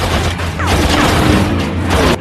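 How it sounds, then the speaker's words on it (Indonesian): Sustained, loud gunfire in an action film scene, a dense continuous barrage of shots and booms with no pauses. "Joe terus-terusan menghujani tembakan kepada Jensen tanpa henti"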